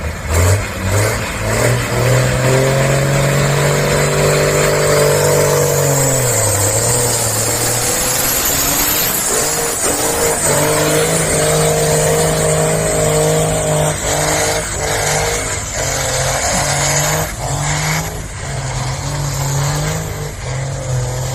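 A powerful diesel tractor engine roars continuously at high revs during a tractor pulling demonstration at a steam rally, loud and close, with surges and drops in pitch and a faint whine riding on top.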